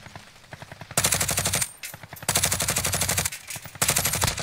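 Automatic gunfire in Call of Duty Warzone rattles out in three long, rapid bursts separated by brief pauses. The shots are loud and close, each burst a fast stream of sharp cracks.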